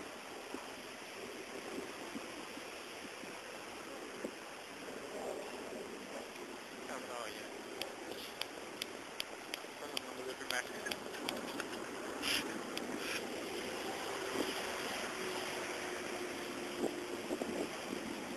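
Floodwater from the swollen Mannu river at Samassi rushes in a steady, broad roar, carrying hay bales along a flooded road, with wind buffeting the microphone and occasional faint clicks over the continuous wash.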